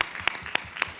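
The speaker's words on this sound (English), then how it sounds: "Everybody give a big round of applause for the amazing Angie Rye." Applause from an audience at a panel event, a dense steady patter of many hands with a few sharper claps standing out, moderately loud and unbroken.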